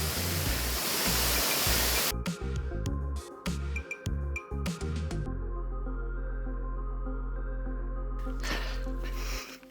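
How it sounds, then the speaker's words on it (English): A waterfall in a rainforest near Lorne gives a loud, dense rushing roar, strongest at the start, then partly masked by other steady sounds before the rush swells again. "very nice waterfall, very pretty here"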